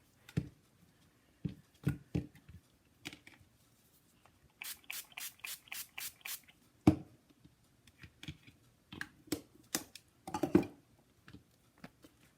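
A rubber rose stamp is cleaned with stamp cleaner in quiet, scattered bursts. Sprays hiss in a quick series of short pumps in the middle, and soft dabbing, wiping and tapping sound close by.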